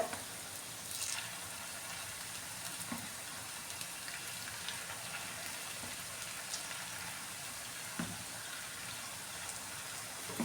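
Wheat flour pakodas frying in oil over a lowered flame, a continuous close crackle and sizzle with scattered pops and bubbling, steady and moderately quiet throughout with no talk.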